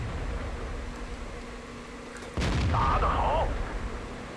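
A single heavy tank cannon shot in World of Tanks, a sudden boom with a rumbling tail over ongoing engine noise, with commentary talk running throughout.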